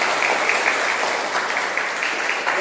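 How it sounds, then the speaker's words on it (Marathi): Steady applause from an audience fills the whole stretch, a dense, even patter of many hands with no pauses and no voices rising above it. "याच्याकरता तर टाळ्या वाजवा"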